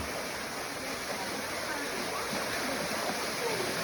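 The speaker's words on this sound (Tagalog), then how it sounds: "May waterfalls pa, ah." A waterfall at a campsite gives off a constant, broad rushing roar of falling water, steady and fairly close, with voices faintly underneath.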